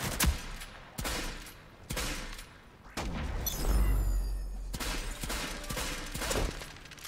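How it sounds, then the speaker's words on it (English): Gunfire in a first-person shooter video game, with repeated bursts of shots and a heavy boom partway through, loud and close against constant game background noise. "A little wild on the shooting there"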